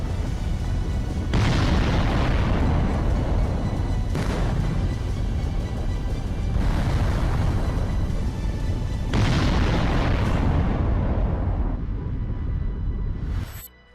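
Deep, heavy rumbling booms roll in repeated surges, each with a sudden onset followed by a long sustained roar, loud and close, then a cut to near silence at the end.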